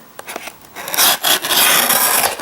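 Blade rasping and scraping through thin ramp material for a handmade fingerboard mini ramp, loud and close, with short strokes that merge into a longer sustained scrape.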